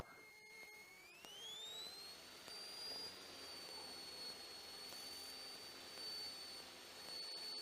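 A training airplane's engine runs up to full power for takeoff, a steady loud drone with a rising whine that climbs and then holds high, continuous throughout with no talk.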